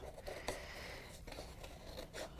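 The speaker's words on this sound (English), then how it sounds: "it's a little harder to get in there and cut curves like this" Quiet snipping and scraping of medium-sized scissors cutting curves through watercolor paper, a few distinct cuts spaced irregularly against a soft background.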